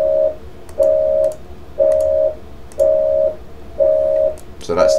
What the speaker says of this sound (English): So that's the OPO alarm.